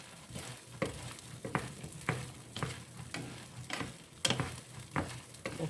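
Shishito peppers stir-fry in a salted pan, a steady sizzle broken by regular tossing and scraping strokes about once a second, close and clear.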